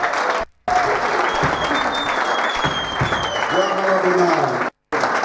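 Sustained applause and cheering from an audience at a church gathering, loud and dense throughout, briefly cut by two short silent gaps.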